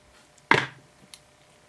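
A hobby knife trims and smooths a cut on a plastic part of an HGUC Kshatrya model kit. One sharp, close scrape is heard, followed by a couple of faint ticks in a quiet room.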